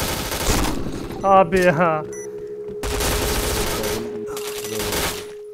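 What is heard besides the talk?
gunfire in video game Point Blank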